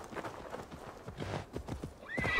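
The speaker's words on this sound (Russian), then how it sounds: "Давай-ка возьмем коня" A horse in the video game Assassin's Creed Valhalla clip-clops along at close range, its hooves thudding in quick succession before it lets out a high whinny at the end.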